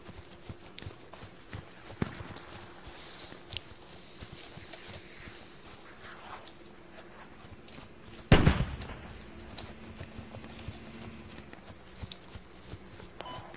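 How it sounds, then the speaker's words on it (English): A rocket is fired and explodes in the military shooter game Squad: one loud, sharp blast lands midway through, standing out over low rumbling battlefield ambience and scattered small thumps. "we're gonna fire a rocket"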